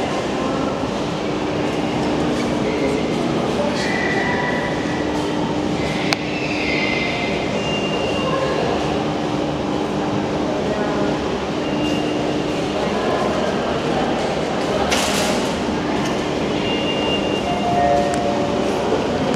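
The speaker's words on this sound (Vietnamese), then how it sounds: "hệ thống tàu điện ngầm không được dày đặc như ở Jakarta này" Subway train running in Jakarta, a steady loud rumble of wheels on rail with occasional squeals and clatter, continuous throughout.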